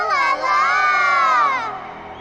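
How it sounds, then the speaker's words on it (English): A cheering crowd of shrill, childlike voices from the rhythm game Space Channel 5 roars loudly for about two seconds, swelling and then easing off slightly at the end. "All the people you saved are cheering you on to save you."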